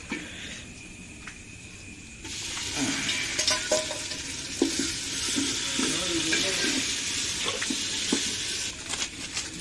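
Onions and masala for chicken fry in a pot over a wood-fired clay stove, a quiet start giving way to a loud, broad sizzle with stirring scrapes and clinks, while a person speaks intermittently.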